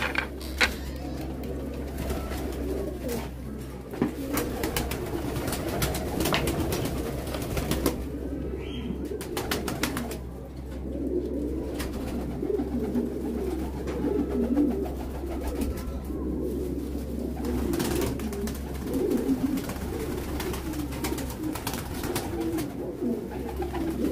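Free-roaming pigeons coo repeatedly, close by, with low throaty calls overlapping across the whole stretch over a steady mechanical hum and occasional clicks and rustles.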